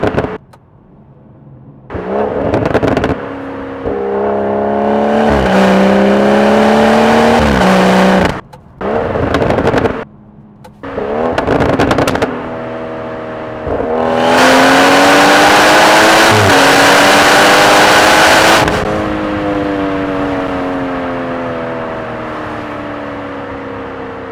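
A BMW M240i with an MSD air intake revs hard in several loud bursts, engine pitch sweeping up and down between short pauses, with pops and bangs from the exhaust.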